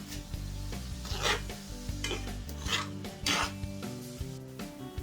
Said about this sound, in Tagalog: At haluin natin guys.